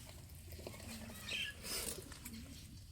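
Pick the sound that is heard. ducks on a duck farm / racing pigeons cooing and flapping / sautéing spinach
racing pigeons cooing and flapping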